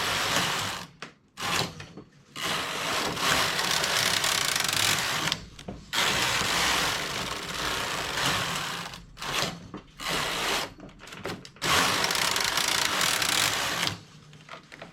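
A domestic knitting machine's carriage is pushed back and forth across the needle bed, knitting open single-strand fabric: repeated loud mechanical rattling passes lasting a few seconds each, separated by short pauses, close and with no talk.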